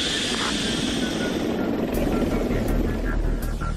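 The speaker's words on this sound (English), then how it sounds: "Shadowed by a chase helicopter" A chase helicopter shadows an A-160 test aircraft, its rotor and engine drone steady and fairly loud, with a rhythmic chop coming through more strongly in the second half.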